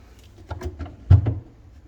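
A hotel room desk drawer slides and knocks shut in a few quick close wooden thuds, the last bump the loudest, in an otherwise quiet room.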